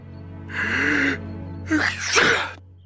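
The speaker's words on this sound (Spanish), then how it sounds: "un estornudo lo sacó del trance" A single sneeze in a dramatized Spanish-language story: a drawn-out voiced inhale followed by a sharp, noisy burst, close and fairly loud against a steady background hum.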